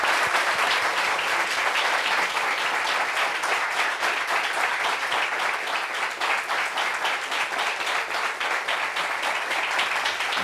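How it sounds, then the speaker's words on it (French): A studio audience applauds steadily as a guest from Abobo is welcomed on a talk show about sexual orientation in Africa, dense clapping sustained loud and close throughout. "On applaudit pour Kamagaté Mohamed"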